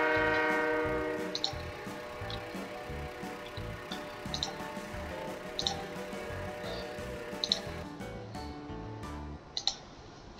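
An EMD F7 Warbonnet locomotive in the Roblox Ro-Scale railroad game sounds a loud multi-tone horn that fades out, followed by light rhythmic clicking of wheels over rail joints.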